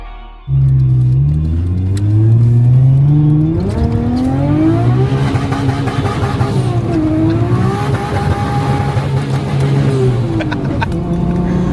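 A Nissan 240SX S13 with an RB engine swap revs hard nearby, starting abruptly and climbing through sustained, loud, rising and falling engine pitch for over ten seconds.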